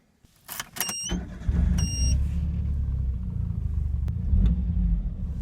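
A small Autozam AZ-1 kei sports car starts up after a few door and switch clicks, then its engine settles into a steady low rumbling idle and driving drone close by, with no talk.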